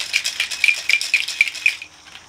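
A tequila sour cocktail shaken hard in a cocktail shaker, about seven quick rhythmic rattling bursts, loud and close, ending abruptly with no voices.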